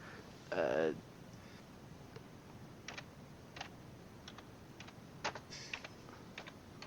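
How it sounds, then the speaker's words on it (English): Sparse, irregular keyboard clicks tap away at low volume, with a brief louder voice-like burst near the start. "Are you typing with your thumb?"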